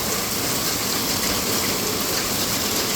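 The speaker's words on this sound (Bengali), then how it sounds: "এত বৃষ্টি, দেখেন পানির স্রোত দেখে বোঝা যাচ্ছে কত বৃষ্টি হচ্ছে" Heavy rain pours down steadily alongside rushing, flowing water from a strong current, forming a dense, continuous wash of noise close by with no talking.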